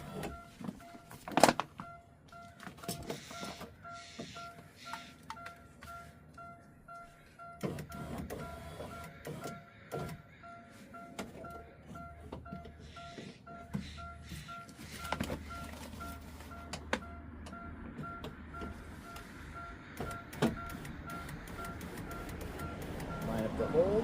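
Power window motor on a Chevy Cobalt door lowering and raising the glass during window replacement, a faint steady whirring hum over clicks and handling noises, with a person talking throughout.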